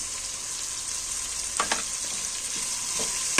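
A spatula stirs salt, chilli powder and coriander powder into Karnataka-style tomato bath frying in a pan. The steady sizzle runs throughout, with a few scraping stir strokes rising above it near the end.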